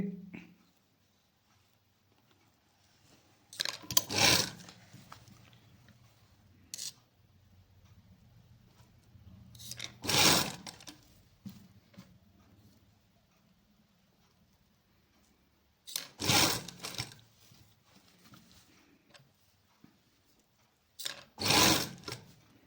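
A sewing machine stitches a straight salwar in four short, loud bursts spaced several seconds apart, with a low hum and quiet room sound in between.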